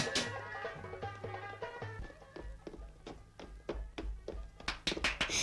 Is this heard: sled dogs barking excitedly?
no